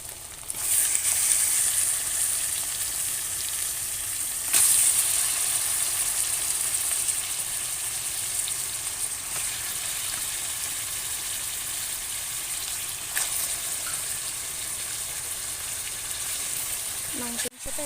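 Meat hits hot oil with fried ginger and garlic, setting off a loud, steady, close sizzle that runs unbroken for well over fifteen seconds with a few faint knocks and no voice.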